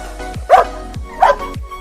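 A dog barks twice in short, loud, sharp yips, evenly spaced, with quick clicking or tapping sounds between them and no talking.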